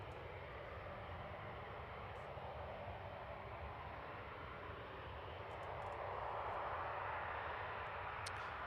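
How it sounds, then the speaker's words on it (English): A Eurowings Airbus A319 arriving from Dusseldorf at Manchester Airport gives a steady, broad jet roar in the background that holds through the whole stretch and swells slightly near the end, with no talk over it. "Next arrival will be Eurowings in the background, coming in from Dusseldorf, A319"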